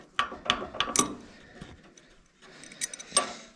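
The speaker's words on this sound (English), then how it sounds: "somehow a crescent wrench loosened it and tightens it" A crescent wrench clicks and scrapes while turning a stubborn bolt on an old Allis Chalmers tractor that has sat unused for more than twenty years. Sharp metallic ticks come in close bursts, with a quiet pause between two clusters.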